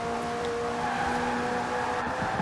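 Hypercar engine screaming at high speed through corners in Forza Horizon 4, a sustained loud tonal whine with steady road roar and no pauses.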